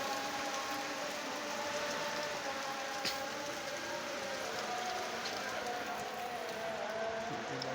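Steady rain falls during Cyclone Remal in Narayanganj, a continuous broadband hiss of drops on surfaces, with faint voices murmuring in the background.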